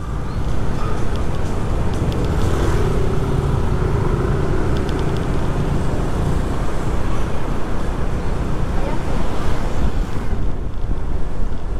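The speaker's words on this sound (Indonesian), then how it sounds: "Ini suasana di sore hari dari pinggiran pantai" Evening at the edge of Eco Beach in Canggu, Bali: a constant loud wash of surf and wind buffeting the microphone, with a faint engine hum underneath.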